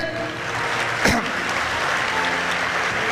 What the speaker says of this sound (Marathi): सर्वांनी एकदा स्वतःसाठी टाळ्या वाजवा